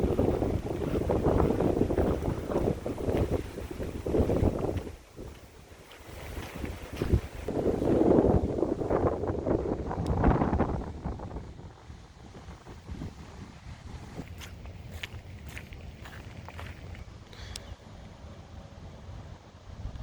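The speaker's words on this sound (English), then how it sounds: "It's really turned into like a dry, warm, tropical like wind now." Warm, dry tropical wind gusts loudly past the microphone, strong rumbling buffets at first that ease into a steadier, softer rush, with faint clicks near the end.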